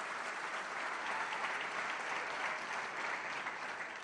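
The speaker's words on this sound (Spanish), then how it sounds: "Un aplauso para este genio que tenemos en el equipo." A conference audience at the Latam Economic Forum bursts into sustained applause, a dense, even wash of many hands clapping that holds steady and loud throughout without fading.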